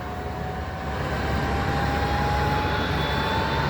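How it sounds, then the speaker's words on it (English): A Boeing 747 Global Supertanker, a firefighting air tanker, approaches with a steady, loud, continuous jet engine roar and a faint rising whine, no voices. "747 coming in."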